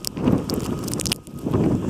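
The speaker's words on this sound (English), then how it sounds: "because of all this wonderful snow and wind" Blizzard wind in Leominster buffets a camera taped shut against the snow, a steady broadband roar with gusty swells and a brief lull midway.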